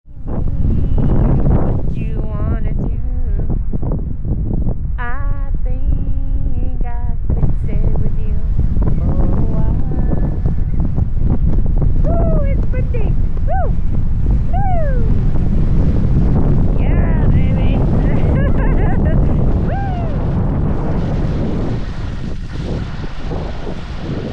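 Strong wind roars and buffets the microphone continuously on a chilly ski day, loud and close, with faint voices occasionally audible beneath the gusts.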